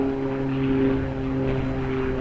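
An airplane flying over a park in Bethany, Oklahoma, heard as a steady, fairly loud engine drone with a constant tone that holds for the whole stretch, with no talk over it.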